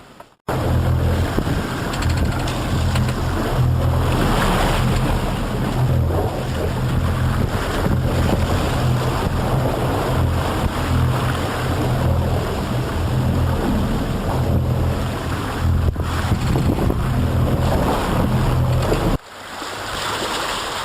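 A sailboat at sea on a cool day with a stiff breeze, roaring with steady wind noise on the microphone and the constant wash of waves against the hull, loud and continuous, with no voices.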